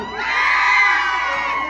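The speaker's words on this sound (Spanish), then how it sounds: "Vamos a darle chance a las mamás de que ellas griten para que se vayan sus monstruos" An audience of mothers at a children's storytelling show shouts together in a loud, sustained burst of crowd voices lasting under two seconds.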